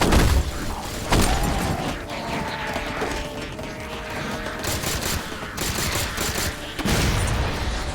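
Plasma pistol firing in Halo: The Master Chief Collection, loud rapid bursts of shots over dense, crackling battle noise, with sharper volleys near the first and seventh seconds.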